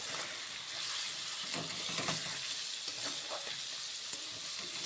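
Beef frying with chili powder and other spices in a pan for a potato beef curry gives a steady loud sizzle, with a spoon stirring through it in scraping bursts.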